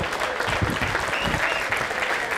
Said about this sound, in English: a nice big round of applause